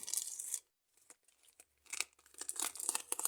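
Sticky tape is ripped from a roll and pressed onto a paper page of a handmade paper-surprise booklet. A sharp tearing burst comes first, then a pause, then longer crinkly ripping and rubbing, close and fairly quiet.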